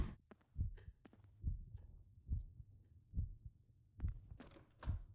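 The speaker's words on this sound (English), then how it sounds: "That's a heartbeat." A low, muffled heartbeat in the horror game Among The Whispers thumps in a slow, regular pulse, about six beats with faint clicks and hiss between them, quiet and alone.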